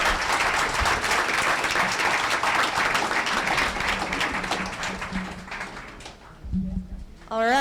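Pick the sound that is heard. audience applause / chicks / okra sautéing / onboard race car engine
audience applause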